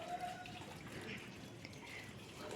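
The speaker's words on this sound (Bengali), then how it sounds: "তারপর এটাকে দুভাগ করে আমি একটু ভালো করে ধুয়ে নেব।" Cut pieces of pepper are washed under running water, a steady close splashing flow with light trickles throughout, with no voices.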